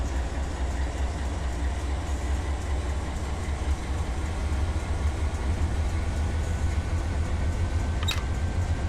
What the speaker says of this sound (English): This domestic container train more likely is out of LAC.